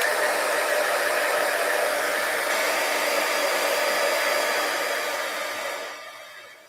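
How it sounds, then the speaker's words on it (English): A handheld crafting heat tool blows hot air in a steady, loud, close whoosh that holds level and then fades away near the end, with no voices. "I did get my heat tool already here"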